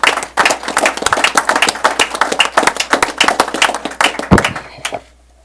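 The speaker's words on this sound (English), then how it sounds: "And I just want to applaud you." An audience at a county executive's partnership announcement claps for about five seconds, a dense, close burst of hand claps that stops abruptly.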